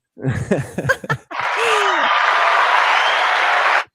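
Audience applause with clapping breaks out after a short burst of laughter and talk, sustained and loud from a crowd for about two and a half seconds before stopping abruptly.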